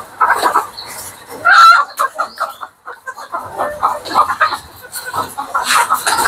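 Desi chickens on a farm cluck and squawk close by in a busy, continuous stream of calls, with some voices mixed in.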